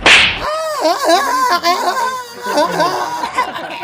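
A sharp smack lands at the very start, followed by exaggerated wailing and sobbing voices.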